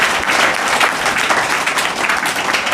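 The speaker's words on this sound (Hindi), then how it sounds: "तालियां" Enthusiastic applause fills a room at a government middle school in Morkatta, Barwani, a dense and loud burst of clapping from a group that continues steadily.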